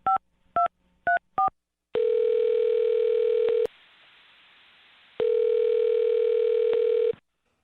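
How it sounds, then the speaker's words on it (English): A phone number is dialed on a telephone: four quick keypad beeps, then a steady dial-type tone that stops, a short quiet hiss, and the tone returns. All of it is clear and close, with no talking. "I'm going to dial her phone number right now"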